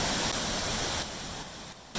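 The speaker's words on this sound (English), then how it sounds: "with the multi-tiered cascade continuing below" Panther Creek Falls, a multi-tiered waterfall near Carson, Washington, pours in a steady broadband rush of falling water that holds constant throughout, with no voices.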